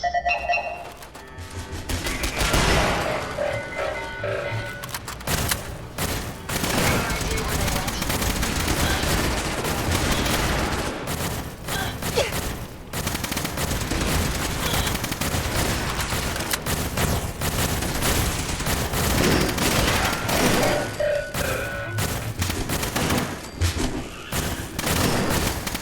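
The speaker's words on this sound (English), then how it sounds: "Sparks, some backup! Bring in the turret!" Sustained automatic gunfire from a deployed turret in the video game Fallout 4, a dense continuous barrage of loud rapid shots with booming impacts running nearly throughout.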